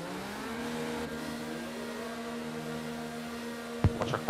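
Race car engines idle and rev in a sim racing game during a USA qualifying session, a steady close drone with rising tones, then a few sharp knocks at the end.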